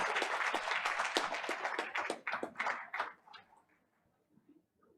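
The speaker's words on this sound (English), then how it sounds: "Let's give them another round of applause." A school board meeting audience applauds PBIS Gold Award recipients, a dense burst of clapping that thins out and fades to quiet after about three seconds.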